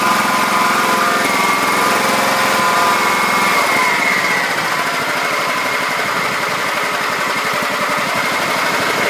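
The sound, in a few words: small engine idling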